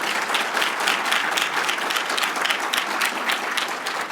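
A graduation ceremony crowd applauds the School of Health Sciences graduates with dense, sustained clapping that fills a large hall at steady loudness from start to finish.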